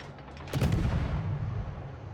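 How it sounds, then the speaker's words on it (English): A warship's guns fire AP shells in World of Warships, one heavy booming salvo that swells abruptly and rolls on into a sustained rumble. "Go ahead and switch up and shoot broadside superstructure with AP."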